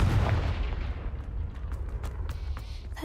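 A Confringo blasting spell from the video game Hogwarts Legacy explodes with a loud, deep boom right at the start, then rumbles and crackles as it decays over a few seconds.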